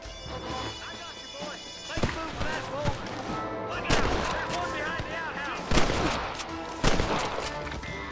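Gunshots ring out in a Red Dead Redemption shootout, several sharp single cracks scattered among continuous talk and game noise, with someone speaking over the fire.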